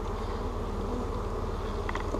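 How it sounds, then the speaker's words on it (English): Honey bees at a hive that are hauling in food and making wax while a laying worker is present, giving a steady, close, dense buzz with no talk. "these bees have hauled in a bunch of food"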